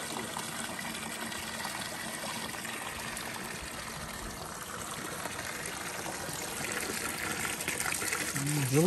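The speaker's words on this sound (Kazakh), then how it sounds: "Өзіне өзі шығып атқан су ма елесі?" Warm water flows from a borehole in Zhyngyldy, Uzbekistan, a steady, even rushing hiss that holds close and constant, swelling slightly toward the end.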